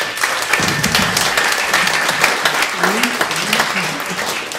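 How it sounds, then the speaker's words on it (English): Audience at a comedy show bursts into sustained applause and clapping, a dense steady wash of hands filling the room, with a voice speaking faintly beneath it. "Give me a big round of applause, would you?"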